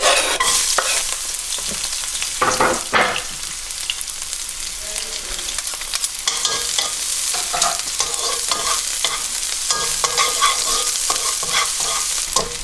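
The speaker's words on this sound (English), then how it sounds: "I'm going to add in a generous amount of oil. Then I'm going to add my garlic." Garlic sautéing in a generous amount of hot oil in a pan, loud continuous sizzling and crackling up close, broken by repeated scraping stirs, with no voices.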